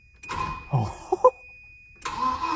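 The B230 engine in a Volvo 940 drift car cranks without catching. There are two short bursts of starter grinding with a few sharp clicks between them, close and fairly loud.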